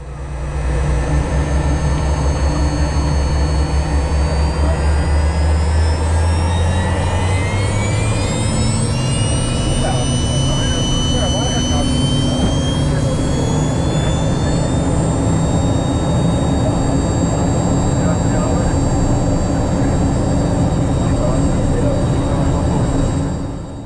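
Jet engines on an old Soviet Yak-40 airliner spool up on the runway, a loud steady roar whose whine climbs in pitch as the aircraft gathers speed, heard from inside the cabin.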